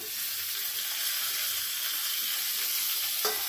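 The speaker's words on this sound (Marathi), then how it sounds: "कांदा चांगला लाल होईपर्यंत परतायचा" Onions fry in a pan until reddish-brown for a green peas curry, a steady close sizzle with faint stirring and a brief clink near the end.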